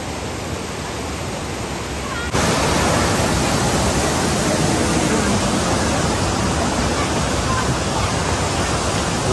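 Waterfall at Kollengode, fed by cold water from the Nelliyampathy hills, roaring as a steady broadband rush that jumps louder after about two seconds and stays dense and close with no break.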